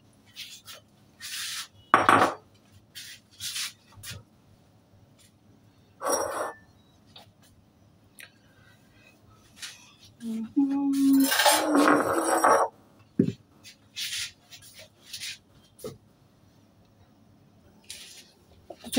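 Ceramic bowls and dishes clink and clatter as a home cook sets out a thali of chapati and raita, with scattered sharp knocks and one longer rattling scrape at close range amid quiet pauses.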